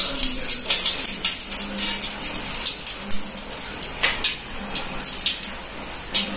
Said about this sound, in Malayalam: നല്ലപോലെ ഒന്ന് കടുക് പൊട്ടട്ട്.